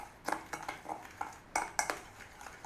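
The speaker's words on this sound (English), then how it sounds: "Let's give that a mix." Beef being mixed with curing salt in a bowl, a run of soft clinks and knocks of utensil against dish at an uneven rhythm, close and fairly quiet.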